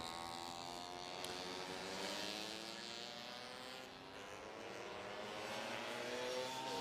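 Two-stroke racing scooter lapping a kart track during a six-hour endurance race at Whilton Mill: a quiet, buzzing engine whose pitch rises and falls with revs, moderately distant and steady throughout.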